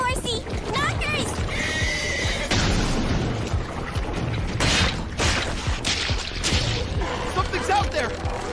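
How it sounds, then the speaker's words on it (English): A horse whinnies and its hooves clip-clop in an anime scene, loud and close, amid dense music, crashes and effects, with voices speaking at points. "Was that a girl on horseback? Look there, horsey!"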